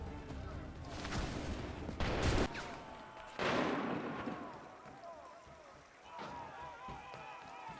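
A musket volley in the video game Assassin's Creed 3 cracks out as several loud, sharp bursts with voices and commotion around them, then fades into lingering rumble.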